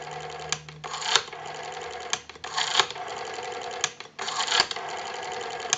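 A Western Electric 302 rotary desk telephone dial being wound and released three times, each turn a ratcheting whir followed by a smooth clicking return, close and clear.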